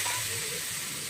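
Water poured into spice paste with chili powder frying in a pan for a Bengali shukto sets off a brief, steady close hissing sizzle.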